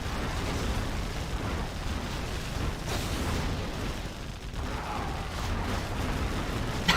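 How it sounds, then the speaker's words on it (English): Bombardment from a player's units in a free-for-all video game fight, a steady wash of rumbling, overlapping explosions and bursts, moderately loud and continuous throughout. "Bombardment there from the Fargo."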